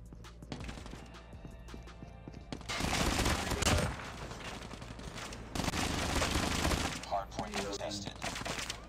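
Dense, continuous automatic gunfire from an MSMC submachine gun in the mobile shooter Call of Duty Mobile, loud bursts running nearly without pause over game sound.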